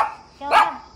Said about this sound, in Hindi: यहाँ पे कुत्ता भी बैठा हुआ है।